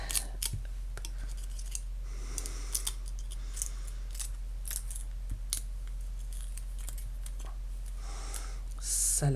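Scissors snip through paper to cut out a small knife-blade shape for a 3D scrapbook craft of an Opinel knife, close and crisp with many quick irregular cuts in bursts, alone with no talking.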